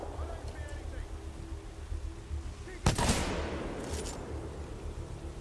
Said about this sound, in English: Oh, this is a Kraber I'm firing